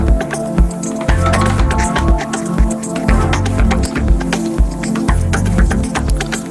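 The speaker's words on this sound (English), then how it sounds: "maybe choose sine wave for it." Music runs through the MODU-WIDTH stereo widening plugin, with a sine wave LFO on the mid channel, a loud pulsing loop with a repeating low throb and clicky percussive hits, and no talk.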